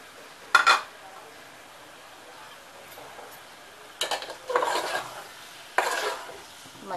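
Goat heart curry with onion and tomato being stirred in a pan, with a few distinct scraping stir strokes and a faint sizzle between them, no talking.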